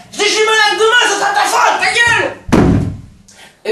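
A door is slammed shut with one loud, heavy bang that follows a stretch of close talking and then quickly dies away.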